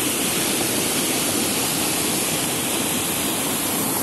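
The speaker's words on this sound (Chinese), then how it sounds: "所以我的下方就是瀑布" Water pours steadily from a waterfall beneath the transparent glass skywalk at Xiao Wulai, a dense continuous roar filling the whole moment without any voices.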